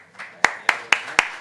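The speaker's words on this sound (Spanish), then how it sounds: "Un aplauso." An audience at a flamenco lecture claps in a few slow, sharp, evenly spaced claps, loud and close, with faint background noise between them.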